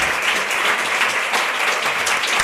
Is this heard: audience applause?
yes